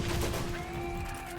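Enemy turrets firing in the video game Borderlands, a loud, dense, steady burst of rapid gunfire filling the whole moment, with no pauses.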